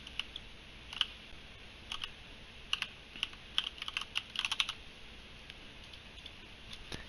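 Computer keyboard keys pressed during game testing, sparse sharp clicks arriving singly and in short bursts, close and fairly quiet over a faint hiss, with no talking.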